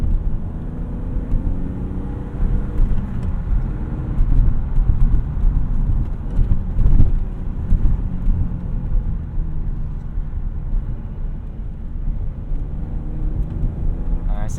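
A stock 1998 BMW E36 M3 in Dakar yellow drives along with a steady, loud engine drone and road rumble from inside the cabin, while people talk over it.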